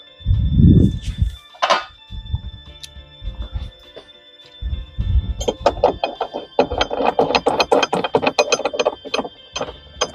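A hand ratchet driving factory bolts into a Jeep 4xe, starting with a few dull knocks and then a long run of quick, even, close clicks.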